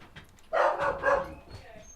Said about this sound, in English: And there's a puppy dog.